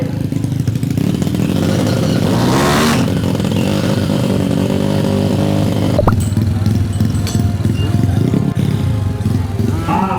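A racing motorcycle engine revs hard and continuously during tuning for a 66/3 class race, loud and close with a rising, falling roar and a sharp clatter partway through.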